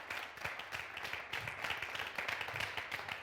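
An audience claps for a young drummer during a French-language TV entertainment show, the applause steady and moderately loud, with dense overlapping hand claps that continue for the whole stretch.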